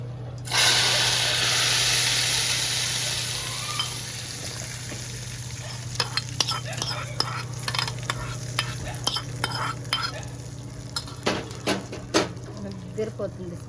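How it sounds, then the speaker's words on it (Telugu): Fried tempering is poured into cooked tomato dal in Andhra-style home cooking: a loud burst of hissing sizzle that fades over several seconds, followed by a run of sharp ladle clinks and taps against the pot. "ఇది తీసుకొని పోపు పప్పులో వేసుకుందాం"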